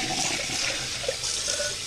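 Potatoes cut for hash browns rinsed in a kitchen sink under a steady, loud rush of running tap water, close by, with no voices.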